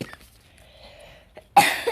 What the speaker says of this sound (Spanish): ya me agarró la tos